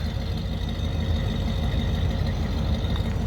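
A 1973 Buick Century with a single pipe exhaust idling, an even low rumbling burble that holds steady for a few seconds with no talk over it.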